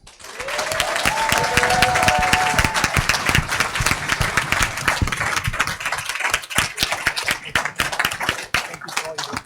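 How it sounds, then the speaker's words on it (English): Loud, sustained applause and cheering from an audience at a school district governing board meeting, dense clapping throughout with whistles and voices mixed in. "So one last round of applause, big cheer for the best."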